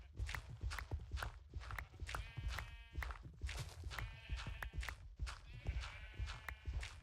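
Sheep bleating in a video game, several bleats in succession over constant rapid footsteps, fairly faint and close, with no talk.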